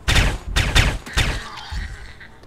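Shotgun fire in the zombie survival game Project Zomboid, three or four loud, close booming blasts in quick succession, each trailing into a short decay.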